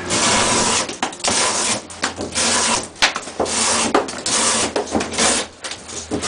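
A Spyderco Military folding knife slices heavy-duty quarter-inch two-ply cardboard in a shed, producing close, loud, repeated rasping strokes broken by short pauses and a sharp snap partway through.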